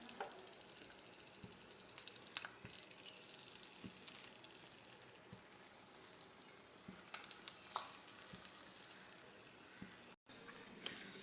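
Garlic and chilli frying in oil for homemade chilli oil, a faint, steady sizzle with soft crackles and occasional louder pops and stirring clinks throughout, and no voices over it.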